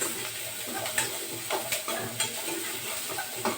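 Onion and tomato sauté in an oiled pan for a Sunday special dish, a steady soft sizzle with occasional scraping stirs of a spoon, close and moderate in level, no talking.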